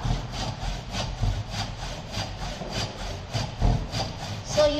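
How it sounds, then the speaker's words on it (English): A rip saw cuts through a piece of wood clamped in a carpentry vise, making loud rasping strokes close by in a steady back-and-forth rhythm of about ten strokes, with no talking. "by using rip saw we have to remove that part."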